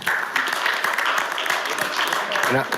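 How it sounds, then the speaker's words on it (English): Applause from those attending a city board of directors meeting, a brisk burst of clapping mixed with voices talking over it near the end. "Let's give them a round of applause."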